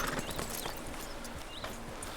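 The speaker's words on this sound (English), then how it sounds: "I'm trying to get the horse out of here." Horse hooves clip-clop in Red Dead Redemption 2, a steady rhythm of close hoofbeats with faint chirping sounds in the background.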